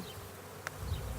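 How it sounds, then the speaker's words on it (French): Honeybees buzz around their hive in a faint, steady drone, with one brief louder pass of a bee near the middle and no talking. "Il y a encore les abeilles ici."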